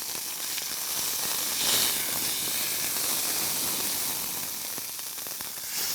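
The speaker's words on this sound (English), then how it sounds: "Brown him up before it goes in the camp oven." A lamb shank with garlic browning in a camp oven over a bush campfire, giving a steady, loud sizzling hiss that carries through without a break, close up and with no talk.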